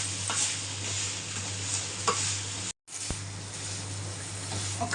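Jaggery being stirred into a pumpkin curry, with a steady close sizzle and soft scraping of the spoon through the pan, briefly cut off by a short silent gap before the stirring resumes.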